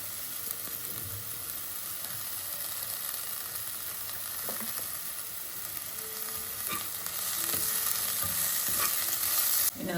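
Chopped methi (fenugreek) leaf stems sautéing in a hot pan for thoran, a continuous close sizzle and hiss with occasional stirring scrapes that grow slightly louder toward the end.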